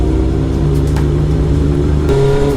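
Loud motorcycle engine revving and pulling up a winding mountain road of hairpin bends near Saint-Auban, a steady close drone with rising pitch and a short surge near the end.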